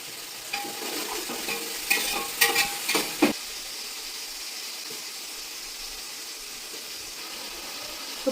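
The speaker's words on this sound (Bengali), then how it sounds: "পেঁয়াজ, কাঁচামরিচ আর টমেটো ভাজা হচ্ছে, এখন এর মধ্যে আমি গরম মশলা দিয়ে দিচ্ছি" Onion, green chili and tomato fry with garam masala in a pan, a few loud stirring scrapes and clatters early on, then a faint steady sizzle alone.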